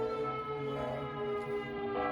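Church bells ringing at a distance, a sustained metallic tolling with lingering overtones, steady and fairly faint, with no one speaking.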